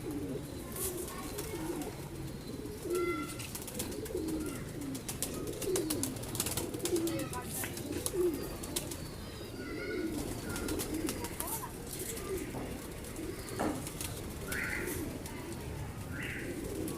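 A Kamanger breeder pigeon pair coos in a cage, soft repeated cooing close by under a low, steady background, while someone talks quietly through much of it.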